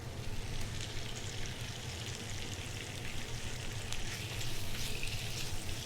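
Shrimp sizzle and crackle steadily in a hot pan, a continuous dense frying hiss with no one speaking.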